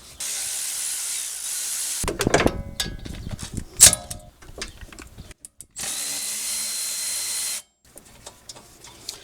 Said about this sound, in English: Now we can loosen and remove the caliper bracket bolts here.